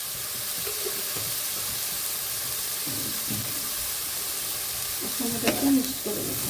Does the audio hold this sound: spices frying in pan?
yes